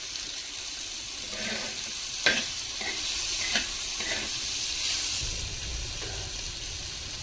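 Sliced onion stir-fried in a pan until reddish for a village-style bitter gourd curry, giving a steady low sizzle with occasional scraping clicks of a spatula, fairly quiet and without talk.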